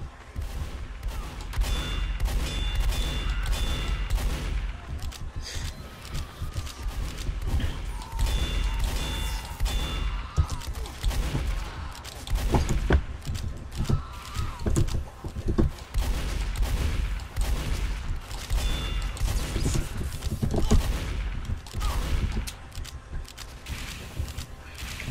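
Rapid gunfire in Team Fortress 2 during a fight with a scout, with dense bursts of shots and impacts over a busy stream of game noise, close and continuous throughout.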